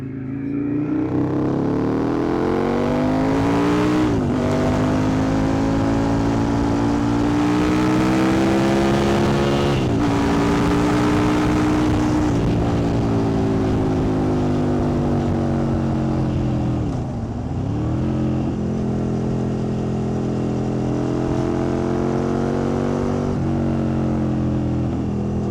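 An older Aprilia Tuono 1000 naked motorcycle accelerating hard, its engine note climbing steadily through repeated gear pulls, loud and close throughout with brief dips at each shift.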